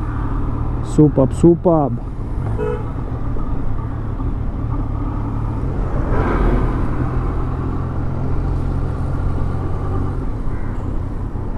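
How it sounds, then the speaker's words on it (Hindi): A Yamaha MT-09 motorcycle is ridden on an Indian road, its exhaust a steady low rumble heard up close under constant wind, with a brief swell in the middle and a voice speaking near the start. "एग्जॉस्ट साउंड भी स्मूथ है and I think no need to change the exhaust because sound बड़ा कूल है"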